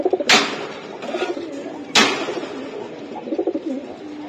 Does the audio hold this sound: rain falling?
no